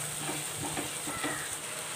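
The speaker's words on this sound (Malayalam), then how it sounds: "ഒന്ന് ഇളക്കി കൊടുക്കുക." Chicken biryani masala with tomato, yogurt and coriander leaves fries in a pan, a steady close sizzle broken by soft scraping stirs, with no voice.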